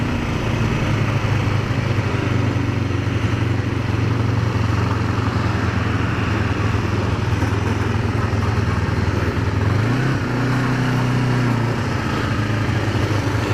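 A Kawasaki Ninja 500R engine drones steadily while riding, a constant loud hum that shifts pitch partway through as a gear change comes, with wind noise layered over it.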